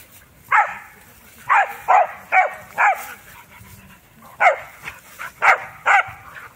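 A dog barks in a series of sharp, medium-pitched yaps, about nine in irregular bursts, fairly close and loud against a quiet indoor background.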